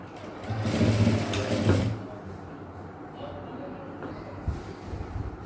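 Sewing machine stitching a silk skirt and blouse for traditional wear, a steady whirring run for about two seconds, then quieter low machine noise and soft handling sounds.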